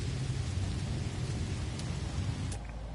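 Toxic rain storm on an alien planet in No Man's Sky, a steady dense hiss of rainfall with low rumbling underneath, continuous and fairly loud, with a couple of brief sharper crackles near the end.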